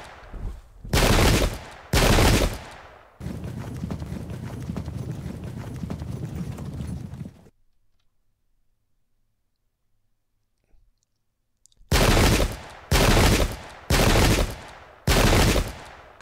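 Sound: musket gunfire in video game Pike and Shot

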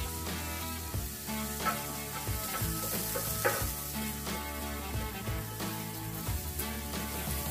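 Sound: beef liver steak frying in olive oil on a plow disc

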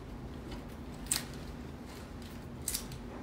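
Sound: scissors cutting pink lily stems

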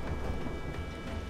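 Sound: thunder roaring in the video game Blackwake

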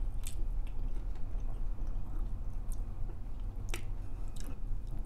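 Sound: chewing crunchy burger

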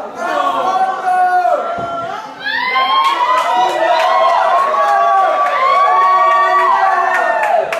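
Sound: crowd applauding and cheering

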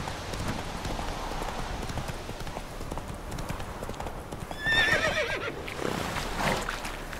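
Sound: horse neighing and hooves in video game The Witcher 3

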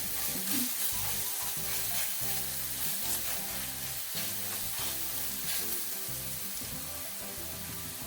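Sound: vegetables frying in oil in pan

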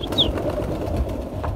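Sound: pigeons flying up and cooing

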